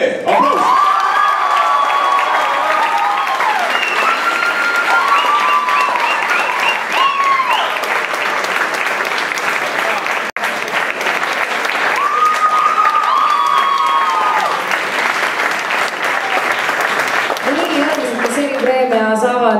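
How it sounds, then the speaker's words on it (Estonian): Sustained audience applause fills a theatre awards ceremony, steady dense clapping with cheers and a few voices calling out over it, lasting throughout and fading slightly near the end. "Aplaus!"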